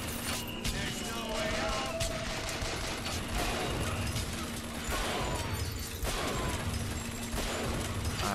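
Gunfire in Bioshock Infinite on 1999 Mode, a steady barrage of shots and impacts during combat, with game music and background effects running throughout at moderate loudness.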